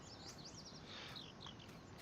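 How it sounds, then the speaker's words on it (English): Video game birds chirp and trill in quick, high bursts at morning over a steady, soft background hiss, with several calls overlapping throughout. "You hear the birds chirping."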